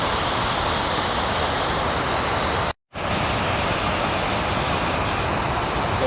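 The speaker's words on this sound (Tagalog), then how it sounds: "So, pero baling kusog gyud ang tubig karon." Strong river water rushing steadily at close range, a loud broadband roar that fills the whole stretch apart from one brief dropout.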